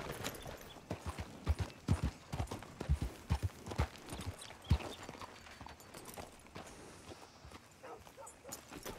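A horse's hooves clip-clop in the Red Dead Redemption 2 video game, a fairly quiet, uneven walking rhythm of thuds with some faint background sounds layered over it.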